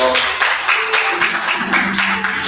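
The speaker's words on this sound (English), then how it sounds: "Can we get a round of applause again for" A round of applause at a Startup Huddle event in St. Lucia, a crowd clapping steadily for the whole stretch with a faint voice and some tonal hum underneath.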